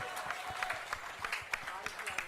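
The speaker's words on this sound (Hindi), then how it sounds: "एक बार जोरदार तालियां भाई हर्ष जी के लिए" Crowd applause for politician Harsh Malhotra at a Delhi public event, quiet scattered clapping heard beneath a loudspeaker voice.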